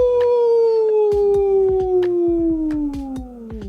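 A person imitates a wolf howl with one long, steady wail that slowly falls in pitch and fades toward the end, with scattered knocks and bumps in the background.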